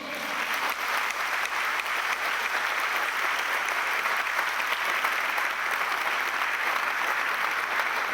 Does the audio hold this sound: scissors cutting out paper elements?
no